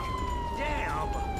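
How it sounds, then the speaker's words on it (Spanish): A police car siren in the video game GTA 5 wails steadily with a rising and falling tone, loud and close, with a voice talking over it. "Apago la sirena."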